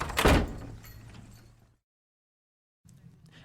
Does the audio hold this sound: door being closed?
yes